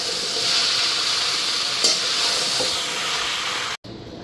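Chow mein fries in a hot pan with a steady, close sizzle and hiss that holds evenly throughout, then cuts out suddenly near the end.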